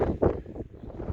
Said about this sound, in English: Whoa, the wind is so strong.